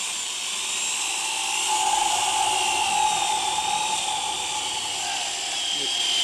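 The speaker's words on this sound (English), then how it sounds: "use a speed bit, in this case a 7/8 inch speed bit, to bore a hole through the edge of the door" A 7/8 inch speed bit bores a hole through the edge of a door, giving a steady, loud, high-pitched drill whine that holds for the whole stretch without a break.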